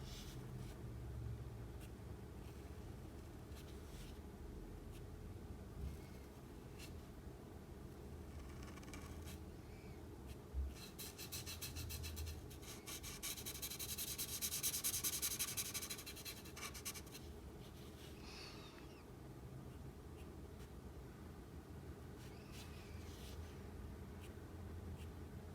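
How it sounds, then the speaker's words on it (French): Coral Pro Markers marker coloring on paper, outlining a cartoon Pokémon's eyes and ear edges: a soft, steady scratchy rubbing of felt tip across the sheet, continuous and close, with a slightly louder patch of strokes midway. "j'utilise la couleur corail des Pro Markers pour colorier en fait le contour de nos yeux et l'arête des oreilles"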